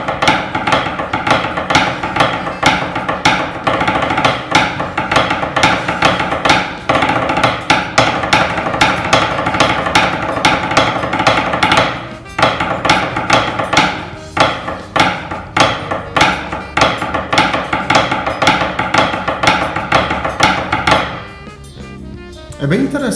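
Maple C-Ibañez practice drumsticks tap on a computer desk in steady, dense rapid strokes, loud and close, under a continuous backing track, with a brief pause near the end.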